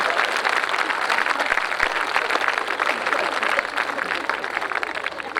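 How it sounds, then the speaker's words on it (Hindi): Sustained applause from the audience at a Hindi poetry gathering in Seawoods, dense continuous clapping at close range with no break. "ताली मिलके बजा दो, इसमें कौन सा टैक्स लगेगा।"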